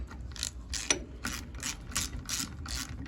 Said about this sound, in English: I'm going to get a 1/2 inch wrench. This particular one's a 1/2 inch. And I'm going to tighten it up.